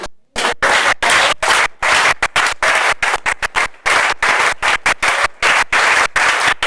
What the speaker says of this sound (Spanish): Yo creo que Jesús se merece un aplauso.